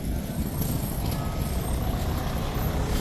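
A truck with air brakes sits in heavy traffic, giving a continuous dense rumble of engines and road noise with no clear breaks and no voices.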